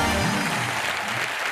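A studio audience applauding for Sajid Khan at a comedy show taping, dense, steady clapping at full volume throughout, with music underneath at the start.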